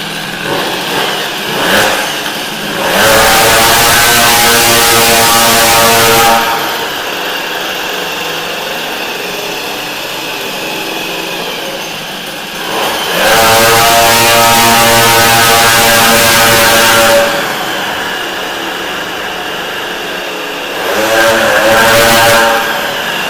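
A Peugeot 103 SPX-R moped revs hard in three loud, close bursts of rising buzzy two-stroke engine note, with a quieter idle between them and no talk.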